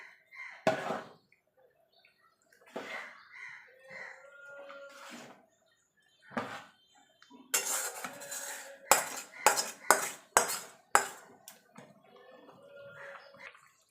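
Spice paste being mixed into vegetarian khichuri in a pot: sparse metallic scrapes and clinks of a spoon against the vessel, followed by a quick burst of louder repeated knocks near the end, with quiet gaps between.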